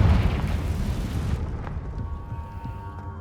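In the video game Hogwarts Legacy, a Confringo blasting spell bursts with a loud, close boom that rolls off into a fading rumble and a few trailing crackles.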